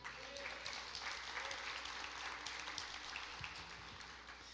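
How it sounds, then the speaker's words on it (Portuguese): A church congregation applauds during a worship service, a steady, even wash of clapping hands that fills the room at moderate level, with faint voices underneath. "Aplauda o Senhor."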